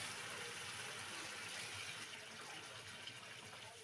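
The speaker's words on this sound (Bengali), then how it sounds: "2 কাপ গরম জল দেব।" Hot water is poured into a pan of soybean, potato and egg curry, making a steady, continuous rushing hiss that holds evenly for a few seconds with no talking.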